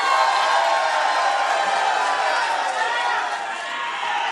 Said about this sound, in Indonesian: Silakan berikan tepuk tangan yang meriah.